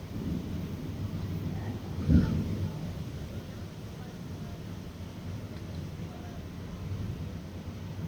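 A single thunderclap rumbles about two seconds in from a storm approaching over Lake Iseo, Italy, during intense electrical activity, then fades into a steady low rumble and wind noise that continues throughout.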